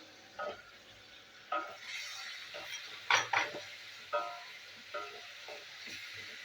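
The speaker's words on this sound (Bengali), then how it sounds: "আমি এবার দিয়ে দেবো চিংড়ি মাছ" Prawns go into a pan of fried spices for a Bengali pumpkin-leaf and shrimp dish, giving several short bursts of sizzling and stirring with a few metal clinks over a steady low frying hiss.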